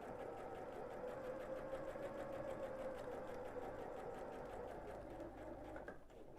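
A sewing machine stitches steadily around the curved edge of an oval piece of fabric, a fast, even, rhythmic mechanical whir that runs continuously and fairly quietly before slowing at the end.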